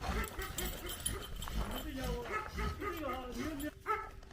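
Stray dogs barking, yipping and whimpering while being fed in cold weather, several animals close by in overlapping excited calls.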